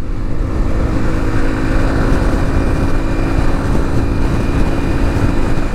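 Motorcycle engine held at a steady, loud drone with a continuous hum, no distinct rev peaks, close up throughout.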